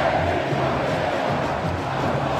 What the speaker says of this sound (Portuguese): E a torcida do Flamengo fazendo uma grande festa